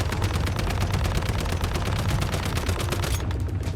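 A sustained automatic burst empties a full magazine in the survival shooter Once Human, fast even shots rattling close and loud before stopping abruptly.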